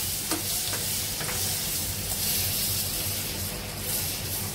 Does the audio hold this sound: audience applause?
no